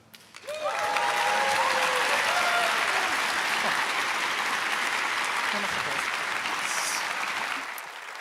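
Loud, sustained audience applause for the main organisers at the Ropecon 2023 opening ceremony, a dense wash of clapping that swells in quickly and holds steady for several seconds, with a voice briefly over the start.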